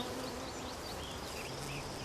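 Bees, bumblebees and honeybees, buzz steadily around native wild rose blossoms with simple five-petalled flowers, a continuous soft drone with several insects overlapping close by and no voices.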